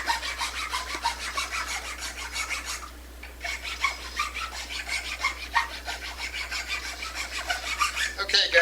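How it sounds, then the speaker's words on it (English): A hand rasp and file work steadily over a carved wooden flame finial, giving continuous scraping strokes with a brief pause near the middle, close and fairly loud throughout. "I'm just going to keep on filing and rasping here a little bit and get this thing smoothed up"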